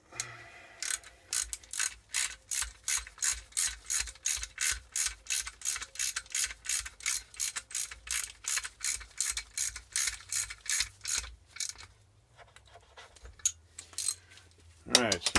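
Steady ratchet clicking from tightening the bracket bolt on a 1987 Snapper mower, a fast, even run of close, loud clicks lasting about twelve seconds, then a brief pause and a final burst.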